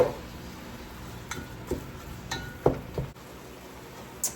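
Red onion and hamburger meat cooking in a pan, a low sizzle underneath a few scattered scrapes and clinks of a utensil stirring against the pan, close and moderately quiet.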